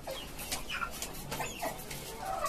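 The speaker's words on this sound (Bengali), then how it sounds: "এই আমার একটা মুরগি," Desi chickens on a rooftop farm of a five-storey house give short, soft, overlapping clucks and chirps at close range throughout, with no voices.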